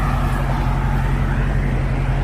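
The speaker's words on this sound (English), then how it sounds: "These cars moving, bro." Continuous roar of highway traffic heard from the roadside, low engine and tire rumble from passing cars holding steady and fairly loud, with no distinct single pass-by standing out.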